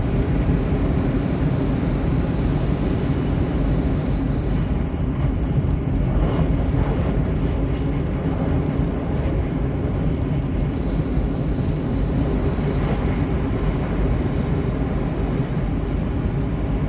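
An E3 series Tsubasa Shinkansen cruises at around 270 km/h on the Tohoku line, passing Shin-Shirakawa station without slowing; a loud, steady rushing roar of wheels and wind heard from onboard, with no talk.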